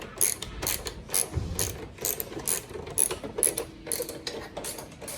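A ratchet tool turns bolts on a Honda CRF300 Rally pannier rack, giving close, crisp clicking strokes in quick repeated bursts of a few clicks each with brief pauses between.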